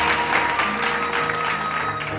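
Audience applauding the winners of a Hindi Diwas competition at a school event, steady, fairly loud clapping from a hall-sized crowd lasting the full clip.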